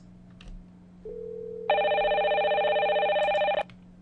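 An outgoing call in the MXIE software plays one steady tone, then a loud electronic ringtone holds for about two seconds and stops abruptly.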